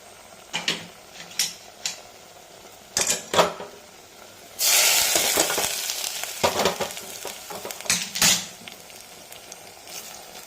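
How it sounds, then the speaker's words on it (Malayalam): Chembu thoran, a taro stir-fry with fried mustard seeds added, is stirred in a pan: a few spoon taps, then a loud continuous sizzle mixed with scraping and clinks. "എല്ലാം കൂടെ ഒന്ന് ഇളക്കി അടയ്ക്കാം"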